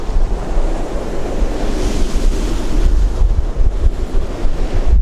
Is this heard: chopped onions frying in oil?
no